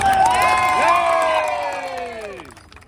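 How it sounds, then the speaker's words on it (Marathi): A crowd of lawyers at a sit-in protest for a court building cheers loudly, shouted voices rising together and then fading over a few seconds, with little distinct clapping. "सहभागी झालेल्या सर्व वकिलांचा जोरदार टाळ्या वाजून अभिनंदन"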